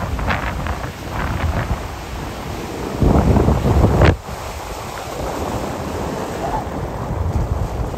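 Ocean surf rolls and washes against a shore under steady wind buffeting the microphone, with a louder rush of breaking water partway through. No voices are heard.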